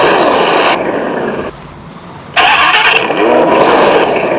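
A luxury European car's engine is switched on, a loud close engine drone that drops to a quieter hum for a moment, then surges back up sharply and holds a steady running roar.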